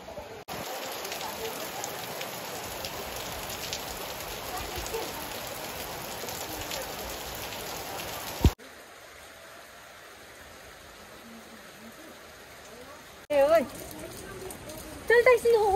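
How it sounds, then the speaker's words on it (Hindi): Dense rain hisses steadily at close range, later dropping to a softer patter, with brief bursts of voices near the end. "साथ में इतनी ज्यादा बारिश भी"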